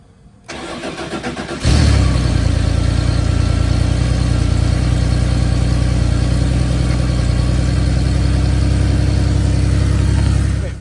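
A Porsche 911 Targa in Guards Red cranks briefly and fires up, then settles into a loud, steady idle with an even low throb close by, running alone without voices.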